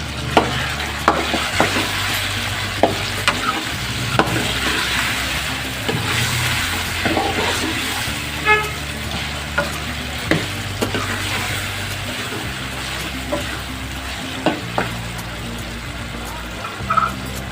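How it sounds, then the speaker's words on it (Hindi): Spoon stirring chilli, turmeric, salt and coriander powder in a pot for an aloo anda curry, with repeated scraping and clinking strokes over a steady background sizzle, loud and close with no talk. "इसको अच्छे से मिक्स करें।"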